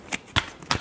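A final quick shuffle of a tarot deck, three short crisp papery riffles in under a second, close up with no talking.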